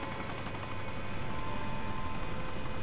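Helicopter in the video game Arma 2: a continuous, steady rotor drone with a pulsing throb, moderately loud and unbroken, with no one talking.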